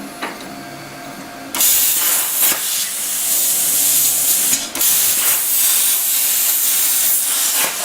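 A Langmuir Crossfire Pro CNC plasma cutter cuts metal with a loud, steady roaring hiss that starts abruptly and runs continuously, broken by one brief dropout midway.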